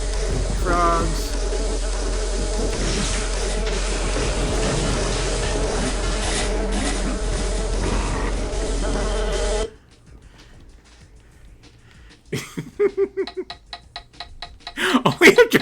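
Steady insect-like buzzing drone, like swarming mosquitoes, fills a swamp stage of the video game Daikatana for about ten seconds. It then drops to near silence, followed by scattered sharper game sounds.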